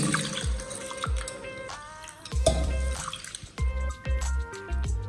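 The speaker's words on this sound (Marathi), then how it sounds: "तांदूळ व तुरीची डाळ 2 ते 3 पाण्याने स्वच्छ धुवून घेऊ" Water splashes and trickles in repeated bursts as rice and toor dal are swished and rinsed, with occasional drips and clinks close by.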